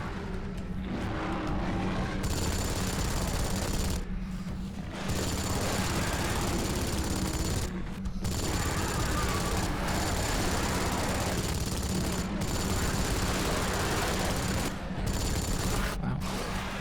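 Sustained heavy machine gun fire from an emplaced MG nest in the shooter game Dark Sector, loud and continuous across the whole stretch with brief dips in the fire, mixed with battle noise and no talk.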